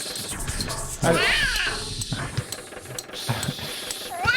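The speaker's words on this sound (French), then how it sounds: "on a entendu un bruit de chat là il y a 2 minutes" A cat meows in a factory setting, a few rising, wavering cries over machinery noise and low chatter, near and fairly clear in the middle and again near the end.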